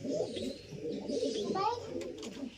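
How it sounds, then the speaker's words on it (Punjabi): Soft, throaty pigeon coos roll on continuously nearby, with a few brief chirps mixed into the low murmuring. "ਤੁਸੀਂ ਕਬੂਤਰ ਦੇਖ ਸਕਦੇ ਹੋ"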